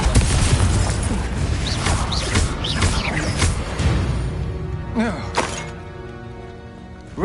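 Blasting spell bursts from a wizard in the fantasy game Hogwarts Legacy, loud cracking booms and shattering thuds piling up through a dense stretch of combat noise, with a quieter tail near the end.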